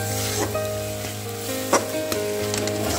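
Spinach with gram flour stir-frying in a pan, a steady close sizzle with occasional scraping stirs and clinks of the spatula, no talking.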